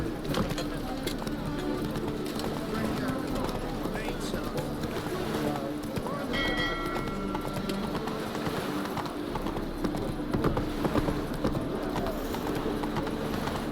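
Roach the horse gallops through the Witcher 3 video game world, steady clip-clop hoofbeats running throughout amid game ambience, with someone talking over it.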